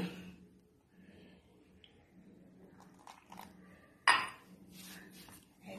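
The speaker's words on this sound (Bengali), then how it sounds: "এবার একটু নাড়িয়ে দিচ্ছি।" A spoon stirs cake batter with milk, baking powder and baking soda in a bowl, making quiet, intermittent scraping and clinking, then one sudden louder clatter against the bowl followed by more soft scraping.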